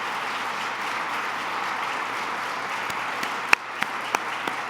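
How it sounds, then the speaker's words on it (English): An audience applauds steadily for Melody Graves and Andrew Teal, a sustained, moderately distant wash of clapping with a few sharper individual claps standing out near the end. "let's give them a round of applause for everything that they've done"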